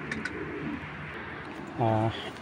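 A young breeding racing pigeon gives a short, low coo near the end, after a few faint bird sounds over quiet background.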